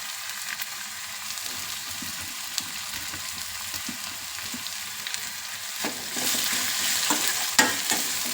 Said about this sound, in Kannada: ಈಗ ಸೋಂಪು ಹಾಕ್ಕೊಳ್ಳೋಣ.